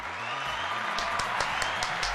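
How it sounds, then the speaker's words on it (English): A small live studio audience on a San Diego fishing talk show gives moderate applause, scattered hand claps over a low background hum, fairly quiet and brief. "Round of applause from the live studio audience for Cal."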